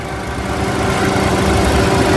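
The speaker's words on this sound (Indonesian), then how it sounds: "Ini mesin 1300 VVT-i. Ya, standarnya punya Corolla, Toyota." A 1300 cc VVT-i engine in a 2017 manual Toyota Avanza G idles with a smooth, steady mechanical hum and light rhythmic chatter, close up and unbroken for the whole short stretch.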